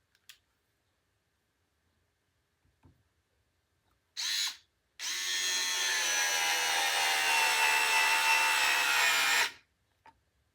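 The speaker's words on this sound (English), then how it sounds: "These are all the same size length screws and diameter. Let's go to 2. See how much farther we sink this in." A battery-operated screwdriver drives a screw into wood, a short burst followed by a longer steady whir of about four and a half seconds, loud and close with no talking.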